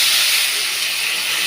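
Water poured into a hot cooking pan, letting out a loud, close, continuous steaming hiss that stays steady for the whole moment.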